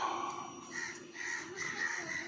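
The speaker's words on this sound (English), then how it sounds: "we have been attacked by a bird. Too many birds." A crow caws repeatedly, in an uneven rhythm, over a couple of seconds. The calls are fairly close and clear and sound alone over a steady background hiss.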